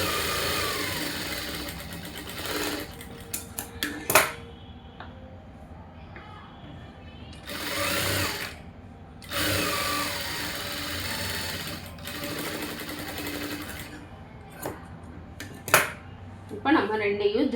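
A sewing machine runs in several bursts of stitching while two blouse pieces are joined for a lined blouse, with short pauses and handling noises between runs.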